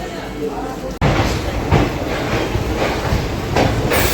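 A Guwahati–Ledo train pulls out of the station after a short pause, wheels clacking in a steady rhythm with regular louder thumps as cars pass joints, loud and close with a rumbling undertone.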